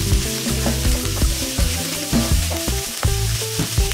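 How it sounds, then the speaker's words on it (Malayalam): Crushed shallots and curry leaves fry in oil in a pan, giving a steady close sizzle with intermittent clicks and scrapes of stirring, no talking. "നന്നായിട്ടൊന്ന് മൂപ്പിച്ചെടുക്കാം. നന്നായിട്ട് വഴറ്റിയെടുക്കും."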